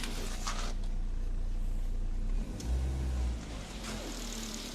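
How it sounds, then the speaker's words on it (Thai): A car engine running on LPG hums steadily then revs up briefly, rising in pitch before settling back to a smooth, quiet run; no talking. "เดี๋ยวลองเร่งให้มันเป็นแก๊สดู"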